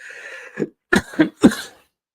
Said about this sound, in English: Look, I'm coughing now because of it.